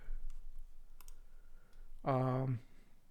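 A few faint, sparse mouse clicks in a database application on a computer, quiet and close, followed by a brief spoken voice near the end.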